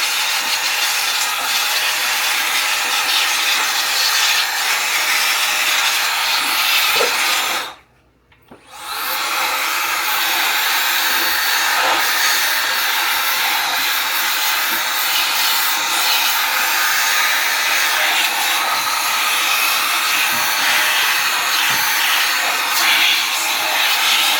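An air blower forces dust out of two very dusty computer fans, making a loud, steady rushing hiss that cuts out briefly partway through, then resumes at full strength.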